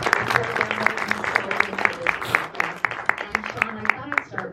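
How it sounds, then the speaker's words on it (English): Audience applause at a panel discussion with a film's director and cast, steady clapping heard close under ongoing talk and crowd noise. "let's give them all a round of applause."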